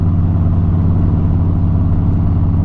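A motorcycle engine idling close by, a steady, loud, low throbbing hum with an even rhythm and no other sounds over it.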